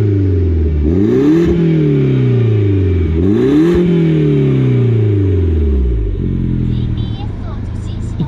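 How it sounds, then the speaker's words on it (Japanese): Exhaust note of a BMW Mini Cooper S with a Liberty Walk widebody kit while driving: deep, droning engine rising and falling through repeated revs and shifts, loud and steady from inside the car. "心地いい感じのマフラー音かな。"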